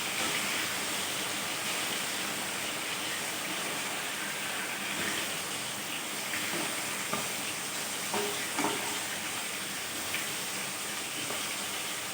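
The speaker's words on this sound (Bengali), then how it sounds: "মাছগুলো ভাজা হয়ে গেছে এবার আমি মাছগুলোকে তুলে নিচ্ছি তেল থেকে" Pieces of chitol fish fry in hot oil, giving a dense, continuous hissing sizzle at an even level with faint stirring knocks near the end.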